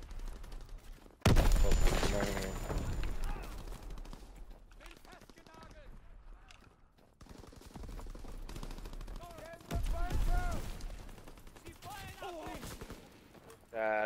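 Gunfire in the Call of Duty video game, with rapid bursts of shots that start loudly and recur through the stretch, mixed with game sounds and someone talking over it.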